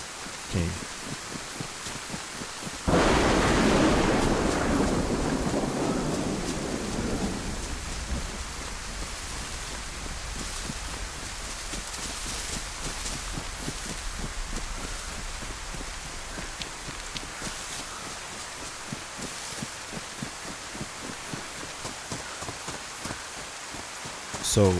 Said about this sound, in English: you're going to still hear the full blast of this